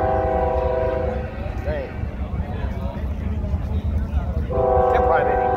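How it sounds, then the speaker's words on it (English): A train horn blares loudly twice over the steady rumble of passing rail cars, with a person talking nearby. "Can't probably even pick up the train."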